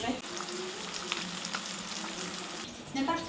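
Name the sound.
onions sautéing with spices and tomatoes in a pan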